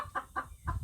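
Farm chickens cluck in a barn, three short, close clucks in quick succession over a low rumble.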